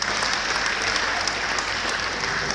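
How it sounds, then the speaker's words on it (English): An audience at a briefing session claps for costumed branch members, dense continuous applause filling the room at even loudness throughout, with no speech heard. "Let's clap for them, please."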